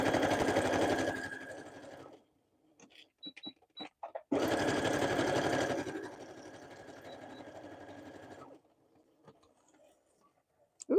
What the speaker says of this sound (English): My sewing machine did not like that paper